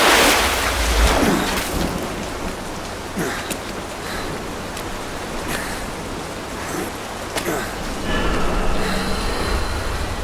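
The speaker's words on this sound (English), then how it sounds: "It's raining." Steady, heavy rain hisses across the scene in Metal Gear Solid V, with low rolling thunder rumbling underneath and a few louder gusts swelling in and out.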